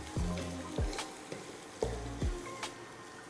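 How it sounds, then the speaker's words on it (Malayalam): Chopped ginger sautéing in a pan for mushroom theeyal, a steady sizzle punctuated by a few sharp scraping stirs of a spatula, close and moderately loud with no talk. "ഒന്ന് വഴറ്റിയെടുക്കുമ്പോൾ തന്നെ കുറച്ച് ഇഞ്ചി കൂടെ, ഒരു കടിക്ക് വേണ്ടിയിട്ട് കുറച്ച് ഇഞ്ചി കൂടെ ചെറുതായിട്ട് അരിഞ്ഞിട്ട് ഇട്ട് കൊടുക്കാം"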